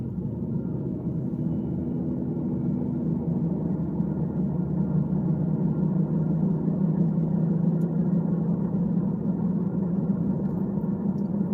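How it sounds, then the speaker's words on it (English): A steady, loud low engine rumble drones on without pause, like a motorcycle exhaust heard up close while cruising. "they say loud pipes save lives on motorcycles, but man, they'll screw your ears up if it's too loud"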